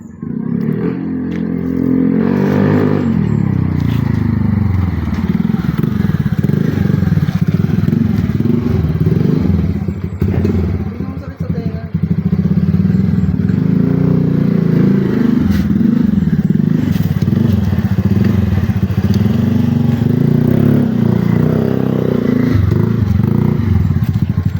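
A TVS Ntorq 125 scooter with a tuned CVT and a changed exhaust pipe runs at close range with a loud, steady engine drone, a quick rev near the start and a slight dip partway through.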